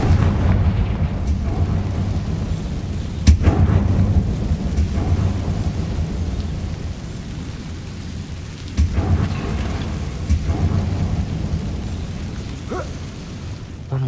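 Confringo blasting spell in the video game Hogwarts Legacy: a few sharp, booming blasts, one near the start and others later, over a steady low rumbling game backdrop, with no voices.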